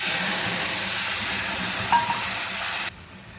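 Onion and green-red chili paste fries in hot mustard-style oil with nigella seeds, giving a steady, loud hiss and sizzle close up that cuts off abruptly near the end.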